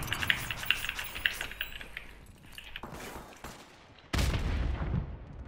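A grenade goes off in a video game: a sudden, loud, broadband blast with a rumbling tail, following a stretch of faint crackling, clicking gunfire-like noise.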